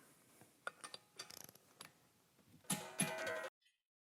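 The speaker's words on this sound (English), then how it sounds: "make sure that it is a moving torque when you apply the wrench to it and it clicks off" A torque wrench ratchets and clicks while clutch bolts are tightened, with scattered light mechanical ticks and a rapid burst of ratchet clicks, then two louder, longer ratcheting passes near the end before it falls silent.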